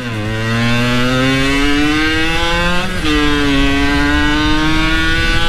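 A 2022 Yamaha YZF-R7 motorcycle is ridden, its engine droning loud and close with a steady rising pitch, a brief shift dip, then pulling up again.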